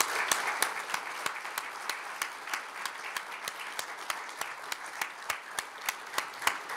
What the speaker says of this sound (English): Please join me in one last round of applause for all of our recipients.